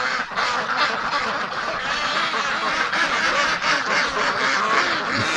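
Ducks quacking outside an open window at 3 o'clock, loud, dense and continuous, with many overlapping calls from a flock of breeding ducks. No one speaks.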